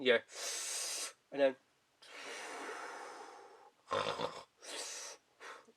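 A voice mimics snoring with raspy, breathy inhales and snorts in several bursts, broken by brief pauses, with a long hissing exhale in the middle.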